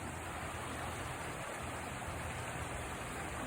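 Rushing high river water swollen after heavy rain, a dense steady broadband roar with no pauses, continuous and even from start to end, no voices.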